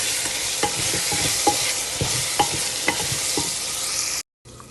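Garlic and cumin stirred in a sizzling frying pan for brinjal bharta, a spoon scraping the pan in irregular knocks over steady frying hiss, close and alone, briefly cut to silence near the end.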